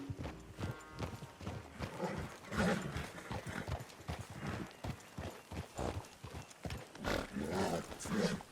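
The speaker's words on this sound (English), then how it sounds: "Damn horse acting up on me of all the times." Horse hooves clip-clop in Red Dead Redemption 2, an irregular run of fairly close thuds with the horse shifting and stamping and a few louder hits, quiet overall and with no talk.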